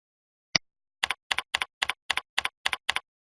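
One lone keystroke on a computer keyboard is followed by a short pause and then eight crisp, evenly spaced key clicks. Each click has a doubled attack, and the typing is close and clear against complete silence.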